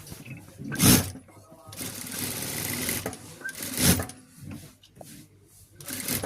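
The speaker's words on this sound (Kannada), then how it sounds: "ಈ ಥರ ಲೈನಿಂಗ ಅಟ್ಯಾಚ್ ಮಾಡ್ಕೊಳ್ಳಿ, ಸುತ್ತ ಒಂದು ಹೊಲಿಗೆ ಹಾಕ್ಕೊಳ್ಳಿ." Sewing machine stitching lining around a blouse, running in rapid bursts with clattering mechanical strokes, two sharp louder bumps as the fabric is handled, close and without any talk.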